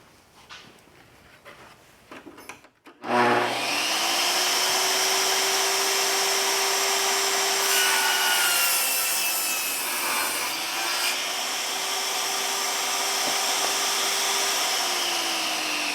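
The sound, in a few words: table saw ripping a board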